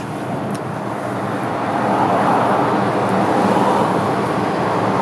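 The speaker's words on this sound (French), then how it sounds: "Beaucoup de circulation aujourd'hui, aujourd'hui comme d'habitude d'ailleurs, sur Portland." Heavy road traffic in Portland makes a steady, broad roar of passing vehicles that grows slightly louder, with no voices over it.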